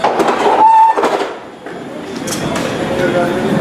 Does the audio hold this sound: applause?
no